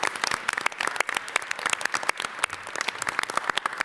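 Applause from an audience at a mayoral press event in New York City, a dense, steady patter of many hands clapping together for about four seconds with no talk over it.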